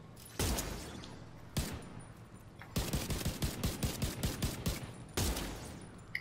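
Gunfire from The Division 2 video game: a loud single shot, another lone burst, then a rapid string of about a dozen automatic shots followed by one more heavy blast, with no talking.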